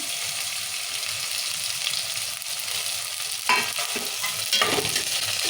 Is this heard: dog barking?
no